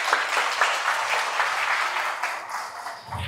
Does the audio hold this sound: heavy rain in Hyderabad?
no